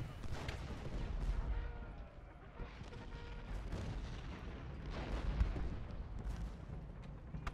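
Gunfire and artillery fire in the video game Ultimate General: Gettysburg make a rolling mix of distant booms and scattered musket shots that rise and fall in waves, fairly faint, with a voice talking quietly.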